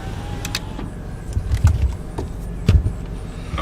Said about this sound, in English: Roll some windows down so we can hear.